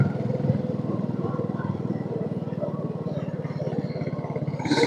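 A motorcycle cruising at night on a road toward a Himachal Pradesh temple trek, its engine a steady, close drone with light clatter throughout, and no speech over it.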